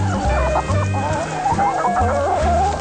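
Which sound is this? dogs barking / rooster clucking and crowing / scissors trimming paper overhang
rooster clucking and crowing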